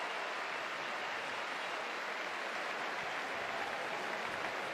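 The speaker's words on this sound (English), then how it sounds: "And the students applauding as the players make their way over." Students applaud at a Navy versus Notre Dame college football post-game ceremony, a distant, even wash of clapping that holds steady throughout without any clear voices.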